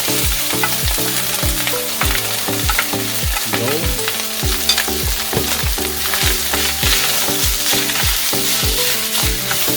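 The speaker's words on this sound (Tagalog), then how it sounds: "So ipa-fried rice natin siya guys." Garlic fried rice sizzles steadily in a hot pan, with a spatula scraping and tossing the rice in a repeating rhythm that sounds close and loud, with no voices.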